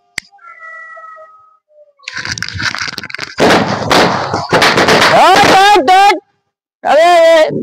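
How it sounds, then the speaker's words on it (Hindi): A dozen snake firecrackers pop and crackle in a loud burst during Diwali in a village, followed by a voice shouting excitedly over the noise. "अपना नागिन पटाखा के ना पूरे दर्जन में आगी लगावे जाई छी"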